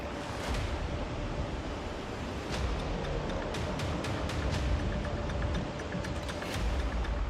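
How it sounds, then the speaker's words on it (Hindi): Floodwater rushing down a swollen mountain river after heavy rain, a steady loud broadband roar with no pauses. "पानी के इस वेग को महसूस कीजिए।"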